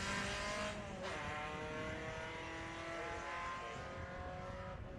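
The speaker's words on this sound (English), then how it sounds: "We're getting into a bunch of Cortinas now" A Ford Cortina Mark I GT race car at a historic grassroots sprint meeting in Leyburn, Australia, drives past with a loud, sustained engine roar that stays steady and close throughout.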